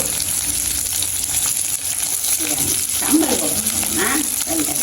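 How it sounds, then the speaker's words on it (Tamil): Fish frying in hot oil, a steady close sizzle running throughout, with a voice talking faintly over it partway through. "அம்மா சூற மீன் எடுத்து நீங்கள் பொறிக்கிறாங்க"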